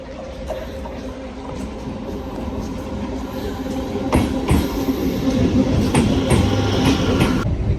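A train rumbles at a station with a steady, broad rolling noise that builds louder partway through. Scattered clanks and rattles of railcars sound over the top, and there is no talk.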